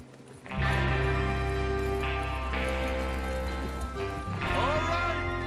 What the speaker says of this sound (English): Get your horses ready.